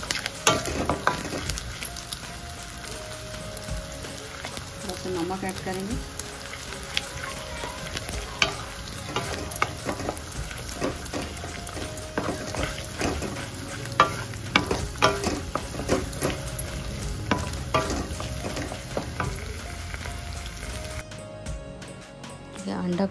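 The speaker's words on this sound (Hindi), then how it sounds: "अंडा को थोड़ा सा अच्छे से हम फ्राई कर लेंगे।" Egg frying in a pan for brinjal (baigan) egg chutney, a steady sizzle with stirring scrapes running beneath a voice talking throughout.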